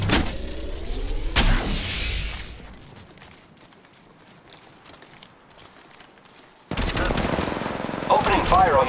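Bursts of automatic gunfire in the Apex Legends Mobile video game, loud rapid volleys at the start and again near the end, separated by a quieter stretch of game ambience.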